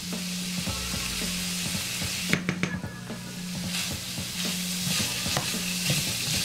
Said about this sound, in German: Jetzt kommt mein Knoblauch dazu. Der wird nur ganz kurz mitgebraten,